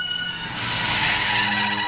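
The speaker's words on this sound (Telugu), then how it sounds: "డ్రైవర్, కారాపు." A car brakes hard to a stop in a street scene from a Telugu comedy film. Tyres screech steadily for about two seconds at high volume, with a broad, rising squeal over the engine rumble and no talk.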